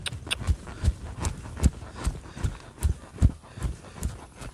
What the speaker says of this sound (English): Now you can take the same exercise up to a trot.